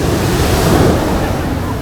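Sea waves at Unniyal Beach in Malappuram, a loud, steady roar of surf mixed with wind buffeting the microphone, heard briefly and continuously.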